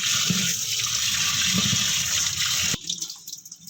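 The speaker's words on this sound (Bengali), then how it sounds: "এবার আমরা ডুমুরটাকে ভালো করে ধুয়ে নেব।" Boiled figs are washed under running water, a continuous close splashing and gushing that cuts off abruptly near the end, leaving faint drips and small knocks.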